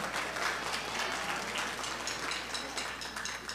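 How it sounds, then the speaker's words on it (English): An audience at a school band winter concert applauds a guest trumpet player, a soft, steady patter of many hands heard from a distance and lasting several seconds. "Yeah, round of applause for him."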